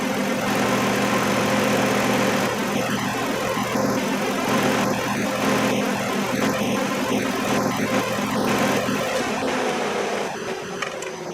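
A 2007 Kia Sedona engine idling in a garage during AC compressor work, a loud steady close-up drone with faint mechanical ticks, easing slightly near the end before shutoff.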